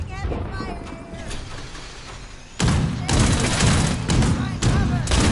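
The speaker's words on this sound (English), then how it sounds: "Taking heavy fire here!" Gunfire in the video game Fallout 76, dense bursts of rapid shots and thuds, loud and close, growing heavier in the second half, with combat shouts mixed in.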